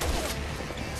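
A sniper rifle shot rings out in the video game Resident Evil 6, a single loud, sharp blast with a brief rumbling tail, heard up close in a very short burst.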